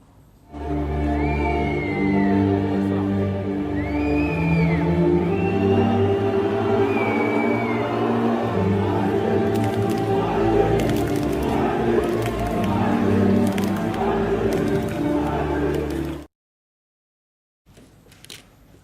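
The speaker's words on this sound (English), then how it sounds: "They were chanting, "Hail Hitler."" A football crowd in a stadium at a match between Israel and Paraguay chants loudly and hostilely toward the Israeli team, a dense sustained roar of many voices with rhythmic shouted chanting, continuous until it cuts off abruptly near the end.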